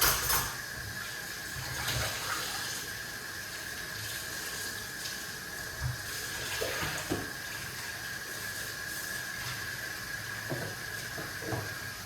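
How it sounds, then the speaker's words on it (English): Pineapples rinsed under a running kitchen tap, a steady close stream of water with faint clinks and splashes throughout, no talking. "I'm going to rinse off these in the meantime."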